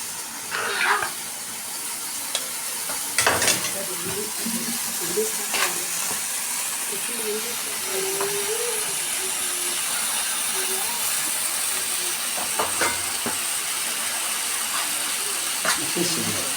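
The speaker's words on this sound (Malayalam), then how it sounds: "Chicken sizzler." A chicken sizzler crackles and hisses on its hot plate in a continuous frying sizzle, broken by sharp clinks and scraping sounds, with faint voices in the background.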